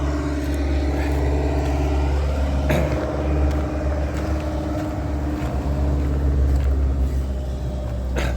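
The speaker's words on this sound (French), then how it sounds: "Tracteur." A tractor passes by outside a building during work near a ventilation unit, a steady low engine rumble that holds loud throughout with no talk over it.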